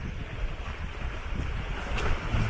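Strong wind at a lakeside cottage on Samosir, a steady, heavy roar buffeting the microphone throughout, with no talking.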